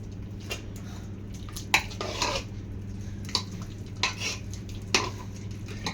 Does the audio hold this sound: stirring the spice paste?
yes